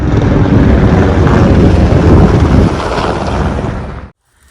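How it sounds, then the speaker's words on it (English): Three large helicopters flying low right overhead on the Appalachian Trail: a loud, continuous roar of rotors and engines with wind buffeting, easing slightly before cutting off abruptly. "I just had 3 large helicopters fly right over top of me."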